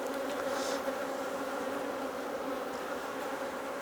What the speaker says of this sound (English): let's just get these bees calmed down again